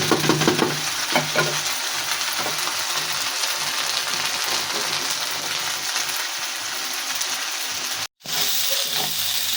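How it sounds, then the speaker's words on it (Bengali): Steady loud sizzling and hissing of fish frying in oil in a pan, close up, with a brief cut to silence near the end. "আরেকটু ভাজা হবে তারপরে আমি দিব"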